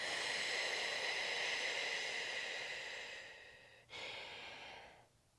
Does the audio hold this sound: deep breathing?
yes